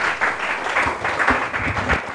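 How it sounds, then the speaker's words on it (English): An audience at a startup accelerator demo day applauds, a dense wash of clapping with swelling pulses that holds steady for a couple of seconds, fairly loud and without any voices over it. "A huge round of applause for them"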